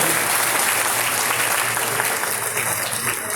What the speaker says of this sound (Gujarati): અમભાઈ ભારતીયાને એક વખત જોરદાર તાળીઓ બોલાવો.